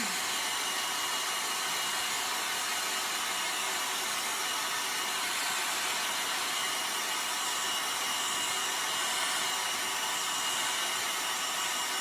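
A hair dryer blows over a chalk transfer with a steady, even whooshing hum that stays constant and fairly close from start to finish.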